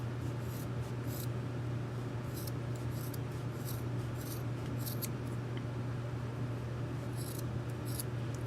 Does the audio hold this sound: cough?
no